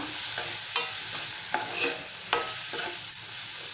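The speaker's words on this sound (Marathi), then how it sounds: "आता सर्वात शेवटी आपण जो टोमॅटो बारीक चिरून घेतलाय तो घालूया छान मिक्स करून घेऊया" Finely chopped tomato stirred into a sizzling bitter gourd (karela) bhaji, with a spoon scraping the pan in several distinct strokes over a continuous close frying hiss.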